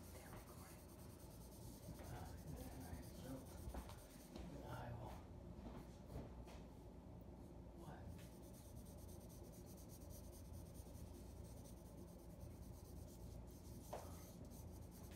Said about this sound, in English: I'm just drawing some little light lines